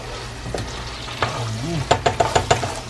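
Bananas frying in a pot, with a steady low sizzle under a few stirring scrapes and several sharp clinks of a utensil against the pot toward the end.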